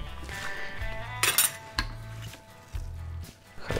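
A metal spoon scrapes and clinks against a pot while rich Polish bigos with apple, bacon, duck and pork ribs is stirred, giving repeated close clatters over a low background hum with no talking.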